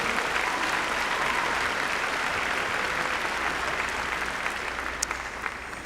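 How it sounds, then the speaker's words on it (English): Sustained applause from a commencement audience in a college ceremony hall, a dense, steady wash of clapping that continues evenly for several seconds with no speech over it. "Let's give him another round of applause."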